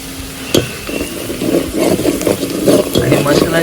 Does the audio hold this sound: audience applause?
no